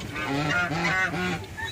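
Geese honk in a pen, several loud nasal calls overlapping in a quick, rhythmic run, close by.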